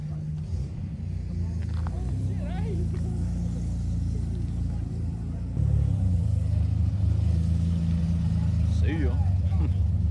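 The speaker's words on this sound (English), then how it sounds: "There's that rat rod starting up." A rat rod car's engine starts at a weekend car meet, its deep rumble jumping louder about halfway through and holding a steady idle, with people talking nearby.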